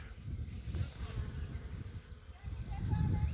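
Honeybees buzz around an open hive during a colony merge, making a close, low, continuous drone that swells slightly toward the end.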